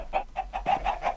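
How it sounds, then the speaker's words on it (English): Minecraft chickens clucking in the game, six short evenly spaced clucks in quick rhythm, fairly close and clear with nothing else over them. "Are those chickens hatching from them eggs?"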